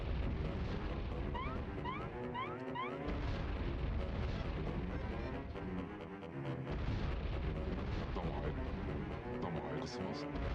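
Booming blasts and shots from the video game Chibi-Robo! roll in heavy repeated waves with brief lulls, loud and dense, mixed with electronic game music, while a person talks over parts of it.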